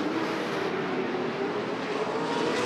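Late model stock cars racing in the 40-lap late model main event at Rockford Speedway, a steady, continuous engine roar from the pack at a moderate distance, with no commentary over it.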